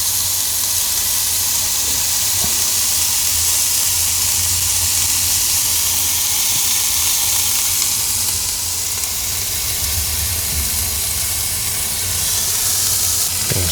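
Chicken sizzles loudly in a pan inside a parked car, a dense, continuous hiss of frying and steam that fills the space without pause.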